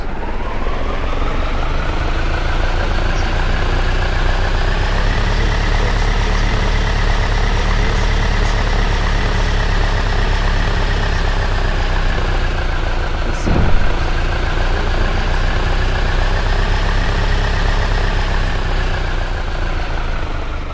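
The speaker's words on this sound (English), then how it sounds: "once you've gotten into your seat, the engine will automatically turn on" A vehicle engine idles in a VR flying game, producing a steady, loud droning hum with a constant pitch that holds for the whole stretch, broken only by one brief thump near the end.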